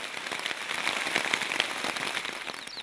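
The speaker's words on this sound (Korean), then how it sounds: "예상치 못한 비가 쏟아지는가 하면" Sudden heavy rain pours down on Ulleungdo island, a dense crackling patter of drops hitting surfaces, continuous and fairly faint.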